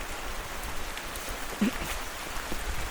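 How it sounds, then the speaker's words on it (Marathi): Steady rain falls and patters on surfaces, a continuous wash of drops with an occasional louder splash, and nobody speaks. "पाऊस तर कंटिन्यू आहे तीन दिवस"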